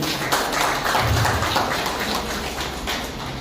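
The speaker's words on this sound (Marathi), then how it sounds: "सगळ्यांच्यासाठी एक खास जोरदार टाळ्या होऊन जाऊ दे" Steady, dense applause fills the room at a Women's Day gathering of MSRTC staff, honouring the ladies, with many hands clapping at a moderate distance and no break.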